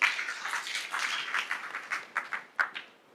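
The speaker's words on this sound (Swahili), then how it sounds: "Pigieni makofi IG." An audience at a county security forum in Murang'a gives a short round of applause, a dense patter of clapping that thins into a few scattered, ragged claps as it dies away.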